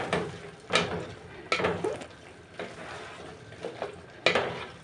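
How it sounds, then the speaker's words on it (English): Beans in coconut cream simmering in a pot over reduced heat, stirred with a utensil in several soft scraping strokes against the pot over a quiet, gentle sizzle. "Just reduce the heat and give it a good gentle stir, just like this."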